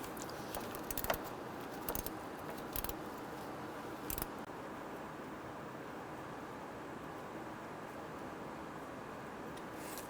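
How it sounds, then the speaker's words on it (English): A gear wrench loosens and removes a bolt on a 2007-2021 Toyota Tundra 4.7L V8: faint, quick ratcheting clicks come in a few short bursts over a steady low background hum, with no talking. "We're going to loosen and remove this bolt."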